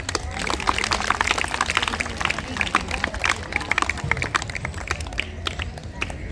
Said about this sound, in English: And you should keep on clapping.